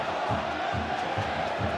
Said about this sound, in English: look at the reaction from the crowd as well